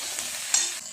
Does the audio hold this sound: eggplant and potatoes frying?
yes